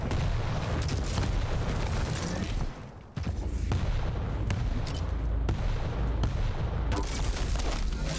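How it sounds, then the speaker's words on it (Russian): Rapid, sustained gunfire from the arena shooter Quake Champions during a competitive duel, with dense continuous shots and booms, a brief drop near the three-second mark, loud throughout. "что-то Сайфер начал давить стрельбой"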